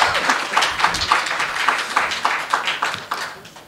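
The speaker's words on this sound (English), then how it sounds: "Let's give him another round of applause" An audience at the inaugural conference of the Public Service and Commercial Union of South Africa gives fairly rhythmic applause, moderately loud and steady throughout.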